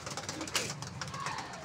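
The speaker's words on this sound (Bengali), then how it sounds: "পায়রা এই দেখো সব এক এক করে বার হচ্ছে।" Domestic pigeons cooing softly at close range, low rolling coos with a few flutters and light clicks, faint voices in the background.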